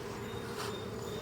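Honey bees hum in a steady, close, continuous drone around an opened hive during an inspection, with no talk over it.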